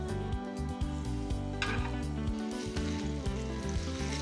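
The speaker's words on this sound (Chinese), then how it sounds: "下锅油煎" Soy-marinated salmon dusted with dry starch sizzles as it pan-fries in hot oil, a steady close crackle throughout.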